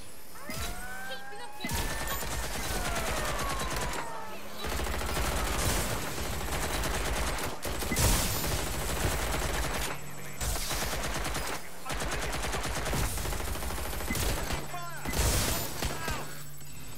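Gunfire from the video game Watch Dogs: Legion, repeated bursts of rapid automatic shots and heavy impacts in a continuous barrage with brief gaps, alongside whooshing game effects.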